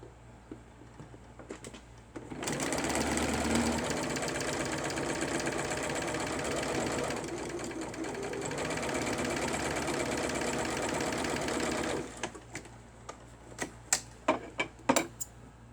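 A sewing machine top stitches in the ditch on a small doll dress, running steadily for about ten seconds with a fast, even mechanical whir, preceded and followed by light clicks and taps of handling the fabric.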